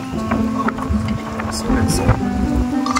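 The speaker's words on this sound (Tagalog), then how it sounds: "Masyadong malakas yung hangin dito." Gusty wind buffets the microphone with low rumbling bursts, steady throughout, with a faint tonal hum underneath.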